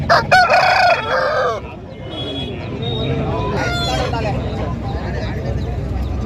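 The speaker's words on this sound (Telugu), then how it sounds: "ఇది మంచి చిలకడ సంబంధించిన పుంజు ఇది" An Aseel rooster at a busy Saturday poultry market crows loudly and close at the start, followed by clucking and other fowl calls over a noisy crowd background with people talking.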